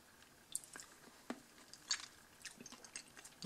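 Someone chews a small snack from an American snack box, with faint, close crunches and soft bites scattered irregularly over quiet surroundings.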